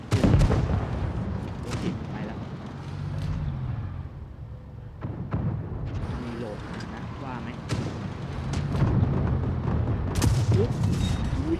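Heavy booming tank cannon fire from World of Tanks rumbles through, with deep thuds and sharp impacts, while people talk over it almost the whole time.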